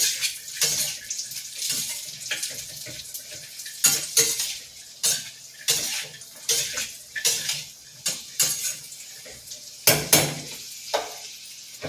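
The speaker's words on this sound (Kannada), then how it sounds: "ಬಾದಾಮು ಮತ್ತು ಗೋಡಂಬಿ ಫ್ರೈ ಆದಮೇಲೆ ದ್ರಾಕ್ಷಿ ಹಾಕಬೇಕಾಗತ್ತೆ." Almonds, cashews and raisins fry in a pan while a metal spoon scrapes and stirs, giving repeated clinks and scrapes over a soft sizzle, close and without voices.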